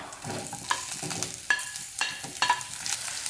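Cut green chili and sliced onion fry in a pan for potato masala, with a soft, steady sizzle and several distinct spoon taps and scrapes against the pan.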